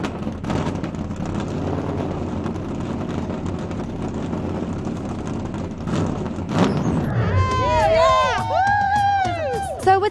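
Screaming fans crowd a red carpet event attended by music artists and NASCAR drivers, with a steady roar of crowd noise that builds into loud, high-pitched shrieks and whoops near the end.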